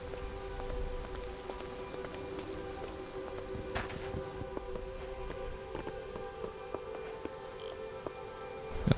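Steady, dense rain falls in the Minecraft game world during a long flood, a constant near hiss of patter with scattered drop clicks and no voices throughout.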